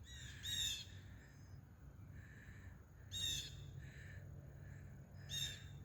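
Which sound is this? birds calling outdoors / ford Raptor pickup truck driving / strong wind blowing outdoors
birds calling outdoors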